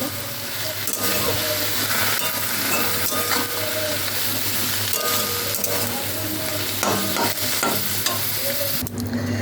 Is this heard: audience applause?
no